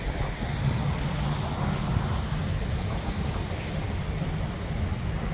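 An Eachine P51 Miss Helen RC model airplane flying outdoors, its engine a steady, distant hum buried under constant wind rumble against the microphone, with no distinct passes or changes in pitch.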